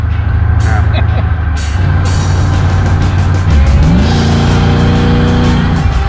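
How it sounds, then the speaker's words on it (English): A beater car built for burnouts roars loudly and continuously up close, its engine revving and dropping pitch through downshifts, with tire noise under the din and a person talking over it. "So much power, so much downshift. So much noise."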